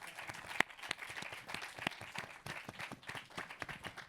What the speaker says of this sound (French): Je vous demande une salve d'applaudissements pour Loïc Parrain.